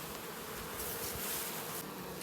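A soft, steady hum of honey bees buzzing at a hive fills the air, low and continuous, with no talking.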